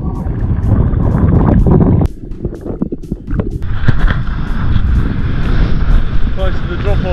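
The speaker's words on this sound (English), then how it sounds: "it's bloody windy." Strong wind buffets the microphone on open sand flats at Whyalla during a fishing trip, a loud, continuous roar with gusts that dip briefly and then build again.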